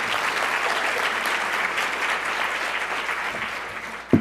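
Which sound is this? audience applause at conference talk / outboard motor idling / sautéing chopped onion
audience applause at conference talk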